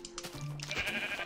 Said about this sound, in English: Gonna kill that sheep and get experience points.